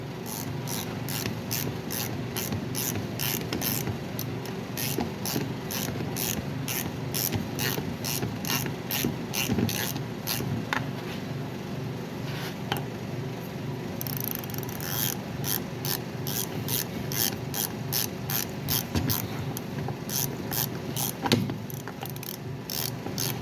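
Steady rapid clicking of a ratchet turning, close and continuous, while rebuilding the brake caliper with electronic parking brake on a 2018 Ford F150; no talking over it.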